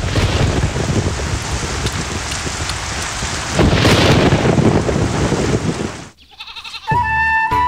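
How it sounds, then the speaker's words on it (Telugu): Heavy rain pours outside a house in a steady, dense hiss that swells louder midway, then drops out suddenly and gives way to a brief tonal sound. "బయట వర్షం ఎక్కువగా పడుతున్నట్టుంది"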